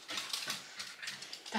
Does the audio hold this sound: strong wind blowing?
no